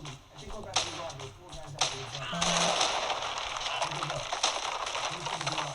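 Gunfire in a helicopter escape video game, with sharp cracking shots over a loud, steady rumble of game noise, and a voice talking now and then.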